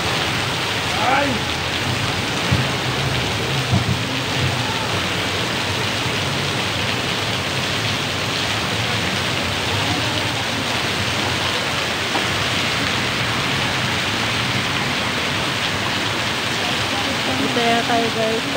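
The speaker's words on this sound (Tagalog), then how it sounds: "Grabe kapusog sa ulan." Heavy rain pours down steadily in Davao City, a dense, loud hiss of downpour that continues unbroken throughout.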